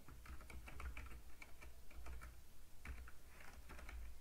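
Typing on a computer keyboard while entering data into accounting software, a steady run of quick, close keystrokes in irregular clusters over a low background hum, with no talking.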